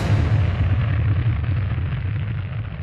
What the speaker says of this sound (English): In battles, there are explosions,